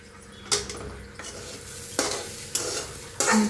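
A spoon stirs thick, spicy Maharashtrian pithla made from ground dal in a pan over a low flame, giving several distinct scraping strokes over a soft, steady sizzle.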